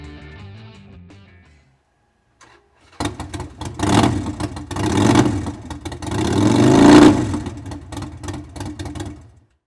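A 2013 Harley-Davidson Sportster 1200 Seventy Two with an aftermarket exhaust and open air intake revs loudly up close after a brief quiet pause, its engine surging in two swelling bursts before settling back.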